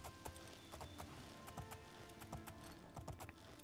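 Horse hooves clip-clop along a road in the video game Oblivion, a steady run of light thuds over constant game background sound, with no talking.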